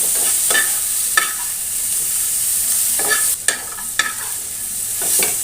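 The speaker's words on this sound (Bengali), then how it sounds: "সমস্ত উপকরণ একসঙ্গে মিশিয়ে ভেজে নিচ্ছি।" A spice mixture with onion paste fries in a pan for a brinjal and pabda fish dish, with a continuous bright sizzle punctuated by periodic close stirring scrapes.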